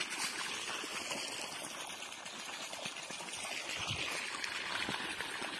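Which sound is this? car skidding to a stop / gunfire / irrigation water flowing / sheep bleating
irrigation water flowing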